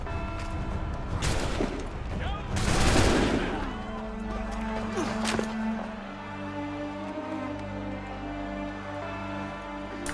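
In Assassin's Creed III, a line of soldiers fires a loud musket volley as a cluster of overlapping gunshots, followed by echoing rumble and fading reverberation.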